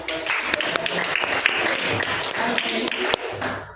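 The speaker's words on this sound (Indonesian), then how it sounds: "Tepuk tangan dulu" Classroom clapping from students at a senior high school session in Percut Sei Tuan, a dense, steady patter of many hands lasting throughout, with a voice or two talking faintly over it.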